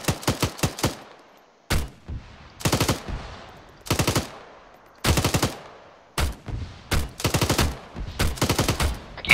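Gunfire in the ArmA 3 military video game: repeated loud bursts of automatic fire, sharp cracks grouped in short volleys with brief pauses between, close and dominant, with no talking.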